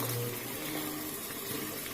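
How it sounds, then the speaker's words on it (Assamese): Hot water poured into a rice cooker for cooking rice, a soft, continuous trickling stream with a low gurgle, close by and moderately quiet, steady for the whole moment without speech. "এই গৰম পানী দি দিলোঁ"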